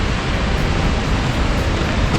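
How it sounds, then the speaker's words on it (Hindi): Fast-flowing river water rushing below a narrow mountain trekking track near Fairy Meadows gives a loud, dense, unbroken roar, close and steady, with no voices. "पानी फ्लो कर रहा है बड़ी स्पीड से।"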